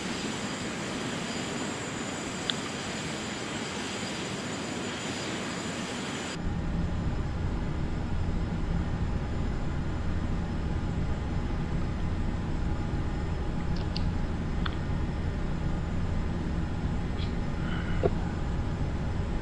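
Aircraft cabin on approach to land at Myrtle Beach runway 18 under autopilot: a steady, close engine drone that steps up to a louder, rougher roar partway through.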